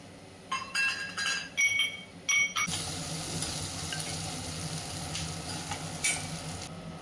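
Onions dropped into hot oil with panch phoron, preceded by a few clinks of a utensil against the pan, then a loud, steady sizzle and crackle that carries on alone.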